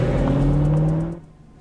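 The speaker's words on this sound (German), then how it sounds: "Dann gib doch mal ein bisschen Gas." Animated car engine accelerating, a loud steady revving drone for about a second before cutting off and fading into quiet.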